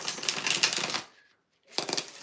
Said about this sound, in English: We're gonna do 6 shuffles for Liz.